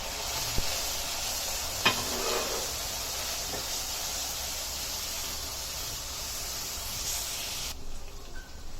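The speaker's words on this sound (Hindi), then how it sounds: "अभी अच्छे से भुनेंगे अदरक लहसुन को, उसकी कच्चापन जाने तक भुनेंगे।" Ginger and garlic fry with onion in a kadai for chicken irani, a soft continuous sizzle with a couple of sharp utensil clicks early on before the hiss suddenly drops away near the end.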